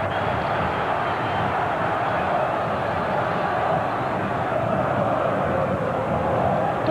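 Corinthians supporters in a football stadium keep up a steady roaring crowd noise, dense and continuous throughout without pause, with no distinct voice on top.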